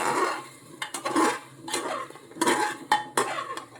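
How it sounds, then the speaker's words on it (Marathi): Ingredients stirred in a metal pot for a Goan ambade sasav, with a spoon scraping and clinking against the sides in uneven repeated strokes, close and moderately loud, no talking. "मिक्स करून घ्यायचं."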